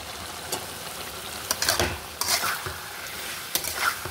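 Chilli chicken frying in a pan with freshly added garam masala of cinnamon and cloves plus chilli flakes from ground dried red chillies: close sizzling with repeated scraping stir strokes and utensil clatter, no voices.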